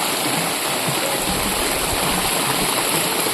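A stream swollen by heavy rain rushes past in a steady, broadband roar of flowing water, close and continuous with no voices.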